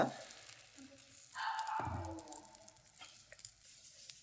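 Dosa batter sizzles on a hot non-stick pan, a soft crackling hiss that swells after about a second and a half as the batter spreads, then settles into a steady fry with small pops.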